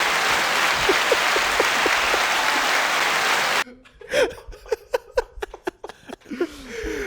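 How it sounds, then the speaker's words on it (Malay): Clapping for a national newspaper journalist guest, a dense burst of applause mixed with laughter for a few seconds, then cutting off abruptly to close-up voices and chuckles in a small room. "Jadi kita tepuk tangan sikit."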